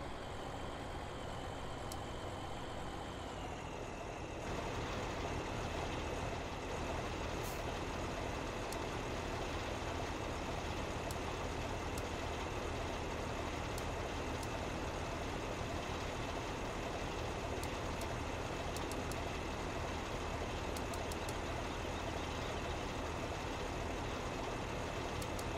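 Combine harvester engine in the farming video game Farming Simulator during a potato harvest, a steady low droning hum running throughout with a slight shift in tone near the start, no voices.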